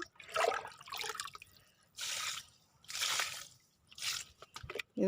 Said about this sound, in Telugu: ఇదిగండి నీళ్ళు పోస్తున్నా